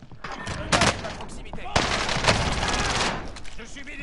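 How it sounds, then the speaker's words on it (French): Dense bursts of automatic gunfire crackle through a tactical shooter match, rapid volleys rising and falling over about three seconds with sharper cracks mixed in, loud and close. "Je subis des tirs."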